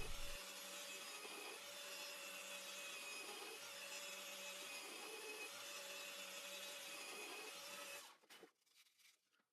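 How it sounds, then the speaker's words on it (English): Power drill boring holes in a workpiece, one continuous whirring, grinding run at close range that cuts off near the end, leaving a few brief knocks and handling sounds. "Then I drill the holes to screw on the bottom part."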